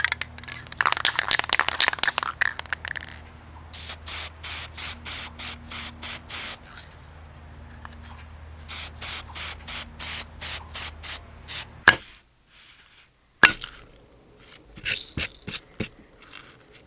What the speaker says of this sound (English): All right, let me go spray paint this.